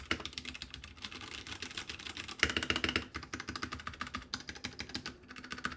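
Mechanical keyboard with brown switches being typed on, a rapid close clatter of key presses with uneven bursts and brief pauses, no talking.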